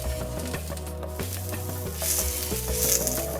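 Slices of eggplant and zucchini sizzle on a grill with a steady, close hiss and crackle, and the sound swells a little toward the end. Nobody talks.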